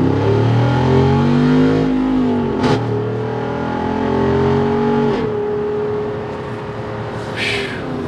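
A 2022 Jeep Wrangler 392 engine revs up steadily, its pitch climbing through gear changes, loud and close with a continuous rumbling drone.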